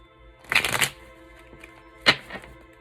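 Tarot cards are riffled and shuffled by hand in two quick bursts, a longer crisp flutter early on and a shorter snap later, close and clear over a quiet background with no speech.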